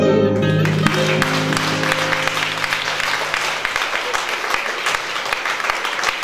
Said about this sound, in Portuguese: Palmas para o Emanuel Coelho, que toca no violão.